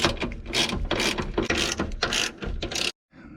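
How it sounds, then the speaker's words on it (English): A ratchet clicks rapidly as it tightens the top mounting bolt of a coilover on an Acura TL, loud and close in quick repeated bursts that stop abruptly near the end. "Now I just got to tighten up the top mounting bolt."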